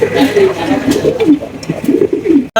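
Pigeons cooing in low, rolling, repeated calls close by, with a voice talking over them for much of the time.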